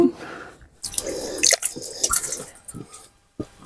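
Fishing bait balls splash into natural water, a few wet plops and drips at close range, separated by brief pauses, with no talk.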